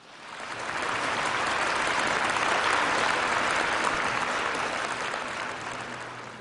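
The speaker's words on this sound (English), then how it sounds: "please give Chairman Tom McDavid of the Washington Times another round of applause for the really valuable remarks" Sustained audience applause after a speech at a formal event, rising quickly into a full, even wash of clapping that holds steady and only slightly tapers at the end.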